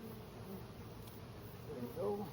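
Late-season honey bee swarm clustered on a bird's nest, a soft steady buzzing hum heard up close and fairly faint throughout, with a brief louder drone near the end.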